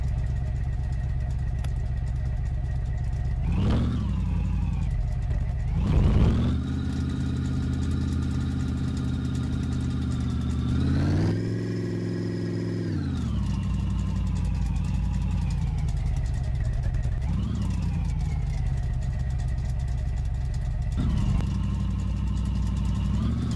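In a home garage, a car engine with no exhaust installed idles loud and raw, then revs up and down in several sweeping bursts before settling back to a rough idle.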